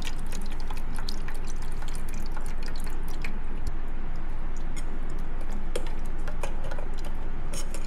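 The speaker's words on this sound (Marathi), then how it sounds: "बघा असा रस येतो मग" Coconut curry paste juice drips and trickles through a sieve into a mixer jar, a close steady patter of liquid drops with faint ticking, no voices.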